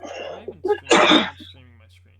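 A single loud sneeze from a person at a computer, a sharp burst right after some quiet speech, with talking before and a low steady hum underneath throughout.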